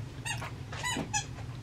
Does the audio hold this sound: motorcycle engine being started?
no